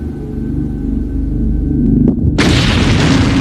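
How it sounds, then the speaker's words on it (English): Bomb detonated inside a luggage container during an aviation blast test: a low rumble builds, then a sudden loud, broadband explosion roars and sustains to the end. "But could glare even stand up to terrorist attack, like these bomb explosions?"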